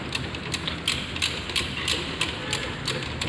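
Ratchet tightening a 14 mm socket on a Daihatsu Hijet 1000 differential, a rapid series of metallic clicks in regular bursts about every third of a second, close and fairly quiet, with no talk.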